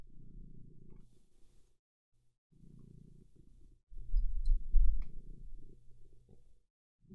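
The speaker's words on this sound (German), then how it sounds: "Vielleicht, dass man die komische Katze hier schnurren hat." Close, low purring from a cat, heard as rhythmic rumbling bursts separated by short silent gaps, growing noticeably louder and heavier for a couple of seconds midway before easing back to a softer purr.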